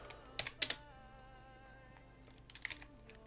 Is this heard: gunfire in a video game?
no